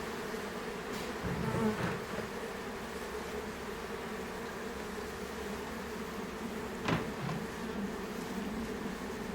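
Honeybees drone steadily at an opened beehive during a chestnut honey harvest, a soft continuous buzz with individual bees passing close now and then, with no talking.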